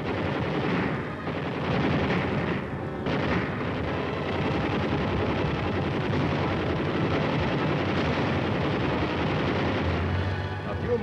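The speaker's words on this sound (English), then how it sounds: "Red rear guard positions are raked with 50 caliber fire" Heavy .50 caliber machine gun fire in the Korean War, 1951, raking enemy rear guard positions: a dense, continuous roar of rapid fire that blends into a rumbling wash of shots for the whole stretch, with no clear gaps.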